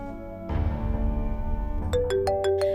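A mobile phone ringtone in a Pakistani TV drama starts as a sustained tonal melody, then shifts to a run of sharp, evenly spaced bright notes, clear and close.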